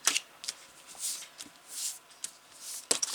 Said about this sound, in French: Déjà je vais gommer les marques.